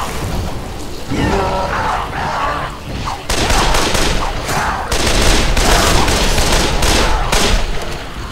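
Sustained gunfire from the zombie game Dead Island, a dense rapid burst of shots that intensifies after the first few seconds and runs loud and continuous to the end.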